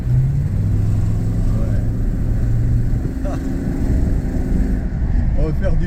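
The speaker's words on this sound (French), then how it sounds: "je vais donner un coup d'accélérateur" A Rolls-Royce engine revs as the driver presses the accelerator, a steady low rumble that climbs in pitch in brief surges, with a voice talking over it.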